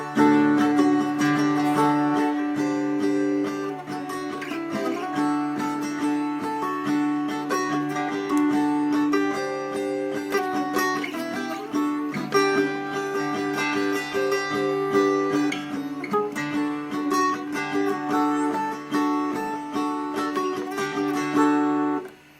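A guitar plays the intro riff of a song slowly, with ringing, sustained notes and strummed accents at a steady, unhurried pace, heard alone and moderately loud.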